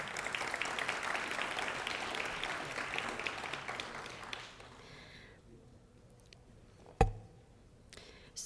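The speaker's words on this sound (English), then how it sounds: "Please give them a round of applause." Audience claps at a building dedication ceremony, a dense round of applause that fades after about four seconds into quiet room tone with a single sharp knock near the end.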